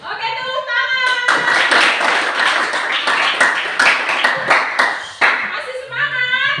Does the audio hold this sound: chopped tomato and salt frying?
no